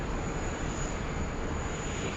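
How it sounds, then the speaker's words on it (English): A Jetstar Airbus A320 arrives at Sydney Airport, its engines a steady, even broadband roar at moderate distance, continuous throughout with no talking. "Jetstar 320 just coming in."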